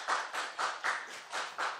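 Congregation at a Christmas worship service in Pangyo clapping in a steady rhythm, about eight claps in under two seconds, fairly faint and moderately close, with no talk over it.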